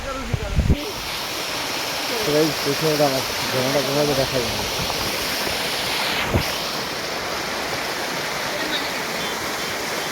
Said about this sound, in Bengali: এই যে ঝর্ণা দেখছেন, পৃথিবীতে ওয়ার্ল্ড বেস্ট ঝর্ণা।